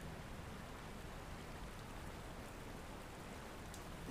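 Rain falls steadily as a soft, even hiss, faint and distant, with no voices over it.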